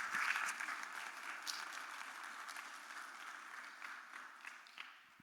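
A conference audience applauding a sponsor, a soft, distant patter of clapping that peaks at the start and gradually fades away, with no speech.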